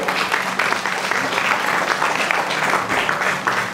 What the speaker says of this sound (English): let's give a round of applause to our friends at OWLA